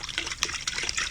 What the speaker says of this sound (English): I'm going to put some water in the kettle.